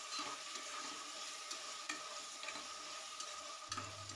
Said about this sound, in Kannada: ಈಗ ಇದಿಷ್ಟು ಚೆನ್ನಾಗಿ ಫ್ರೈ ಆಗ್ತಾ ಇದೆ